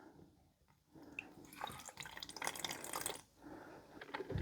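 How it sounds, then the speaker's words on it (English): Water poured from a plastic water bottle into a small secondhand electrical appliance with a heating part, trickling and splashing in two short bursts, close and fairly quiet. "I guess I could put a little bit of water in here"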